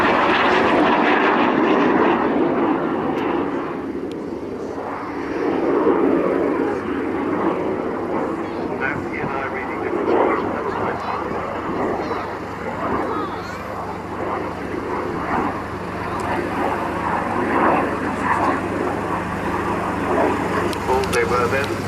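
At the 2013 RAF Cosford air show, an aircraft flying a four-point roll produces a steady engine drone that rises and falls in the distance, heard under continuous commentary from an announcer.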